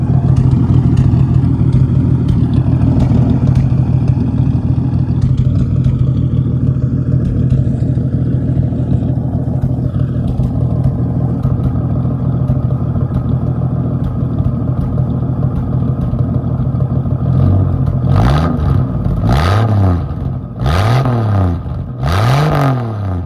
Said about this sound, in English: This is a straight pipe slant 6. So I can actually show you what it sounds like.